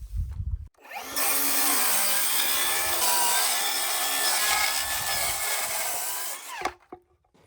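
A power saw bites into wooden floor joists on a home build site and rips steadily through the cut for about five and a half seconds, loud and close, then winds down with a few knocks.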